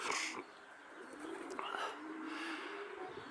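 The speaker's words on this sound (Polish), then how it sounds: "O, i tutaj jeszcze jakieś gołębie są, kolegi?" Pigeons coo softly at a loft during a winter racing final as birds return, low repeated cooing with a brief chirp and a little background rustle, fairly quiet and close.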